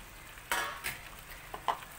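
Sliced eggplant goes into a hot pan for a Malay pajeri terung dish, giving a few short sizzling bursts and clinks against a quiet, steady kitchen background.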